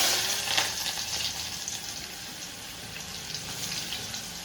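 Curry leaves and onion hitting hot oil with cumin and asafoetida in a home Gujarati kitchen, a loud steady sizzle and crackle filling the whole moment up close.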